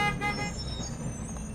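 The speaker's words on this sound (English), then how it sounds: "I think that's the sound of a bus." A bus horn toots somewhere outside on a summer day, a short tonal blast at the start with a second fainter note, set against a low rumble of nearby traffic.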